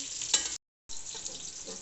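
Onions frying with whole garam masala in hot oil produce a close, bright sizzle with stirring scrapes, cut by a brief silent gap before the crackling frying resumes.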